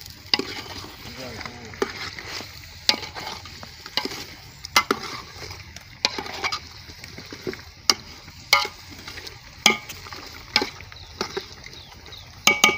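Coconut and sesame are added and stirred into frying village-style chicken, with repeated scraping and clattering stirs over a constant sizzle, irregular in rhythm and fairly close.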